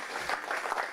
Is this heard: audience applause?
yes